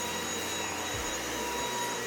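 A household vacuum cleaner runs steadily and loudly throughout a home weekend cleaning session, its broadband motor roar joined by low hum tones that dip and shift as the nozzle moves.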